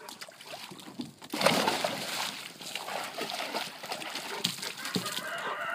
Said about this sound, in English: Lay down in the water, get a drink and cool down in your summer spa.